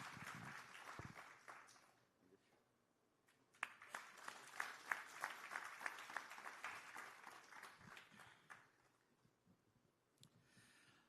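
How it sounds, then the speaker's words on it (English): An audience at a literary festival dialogue session in Bengaluru applauds, with faint scattered claps building into a steadier, moderately distant round of clapping before tapering off. "Can we have a big round of applause?"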